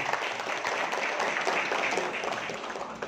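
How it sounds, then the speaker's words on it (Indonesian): A crowd at a farewell gathering for departing Umrah pilgrims breaks into dense, steady applause, many hands clapping at once for a few seconds. "Aplaus buat beliau"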